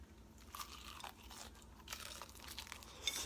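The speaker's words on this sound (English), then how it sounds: "I'm going to let y'all hear the crunch" Crispy buttermilk country fried chicken is bitten close up, giving several sharp, brittle crunches in quick succession against a quiet background.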